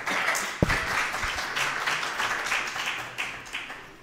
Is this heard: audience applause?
yes